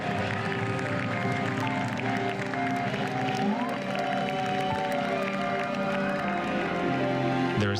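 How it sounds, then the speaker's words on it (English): New York street crowd cheering and applauding essential workers outside a hospital at 7 p.m. Steady, continuous clapping and cheering with whistles, noisemakers and scattered voices. "So this is the city's new ritual for 7 p.m., cheering on the essential workers,"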